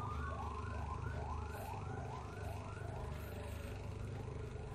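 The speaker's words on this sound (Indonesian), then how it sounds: "Ada apa ambulan lewat?" A passing ambulance siren wails in a repeating rising-falling pattern, heard faintly from a distance over a steady low hum, with no clear speech.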